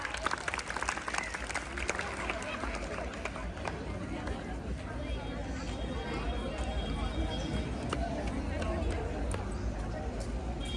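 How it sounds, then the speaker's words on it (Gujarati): A school audience at an awareness skit claps continuously and fairly loudly throughout, with crowd murmur and voices mixed in. "તાળી પાડજો બધા."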